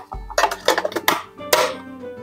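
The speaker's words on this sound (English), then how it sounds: "Stir it around." A metal spoon stirring Earl Grey tea in a teapot, giving a few quick clinks and scrapes against the pot with a faint ringing tone, close and fairly loud with no voices.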